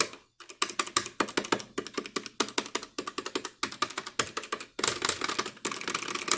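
Stock arcade stick buttons clacking under quick presses, a close, steady run of sharp taps in bursts with short pauses and a denser flurry near the end, no voices.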